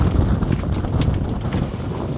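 Strong wind roars and buffets the microphone, with whistling gusts through a sailboat's rigging and rushing air around the anchored boat, loud and continuous.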